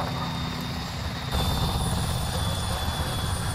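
A loud helicopter in the video game Arma thrums continuously nearby, its rotor and engine noise steady and growing slightly heavier partway through.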